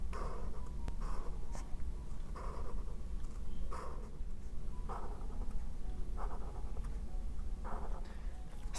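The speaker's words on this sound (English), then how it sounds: "I'm going to use my thicker marker" Thick marker drawing black keys on paper, with short scratchy strokes repeating in an uneven rhythm, close and fairly quiet, with no talk.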